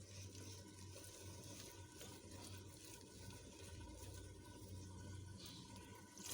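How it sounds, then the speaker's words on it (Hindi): Water trickling gradually into corn flour batter for makkai ki roti, a faint continuous pouring and splashing that runs steadily with a low hum underneath. "तो साथ साथ थोड़ा थोड़ा पानी शामिल करते जाएंगे।"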